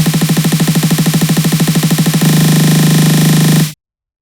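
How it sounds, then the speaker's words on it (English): An electronic snare build-up in FL Studio speeds up from rapid repeated hits into a dense continuous buzz, loud and relentless, then stops abruptly into silence. "that's a really basic snare build"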